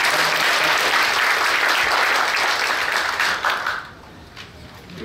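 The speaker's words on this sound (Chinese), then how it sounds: "如果没有的话，就拜托要大家鼓掌通过" A meeting audience applauds to approve a proposal, steady dense clapping that holds for several seconds and then fades out, leaving quiet room tone.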